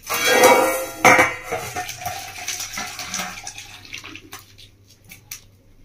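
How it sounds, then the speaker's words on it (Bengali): Cooked masoor dal is tipped from a pot into a container: loud metal clanks of cookware at the start, then a wet, sloshing pour that trails off into a few light knocks. "আমি একটা জায়গার মধ্যে ডালটা ঢেলে দিচ্ছি"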